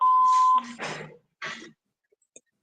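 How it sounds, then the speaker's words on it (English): A telephone answering machine sounds a steady electronic beep tone, followed by brief clicks and small sounds that drop into near silence. "Please leave a message after the tone."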